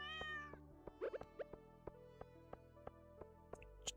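A short cat meow from Stardew Valley opens the passage, then soft game chimes and tapping interface blips follow at a quiet level, with no voices.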